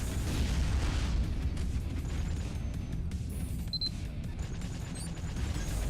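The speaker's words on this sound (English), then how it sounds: "I hear the missile." Missile explosions and weapon fire in the space combat game Spacebourne, a dense, loud continuous rumble of blasts and booms with a brief high tone partway through, sustained for several seconds.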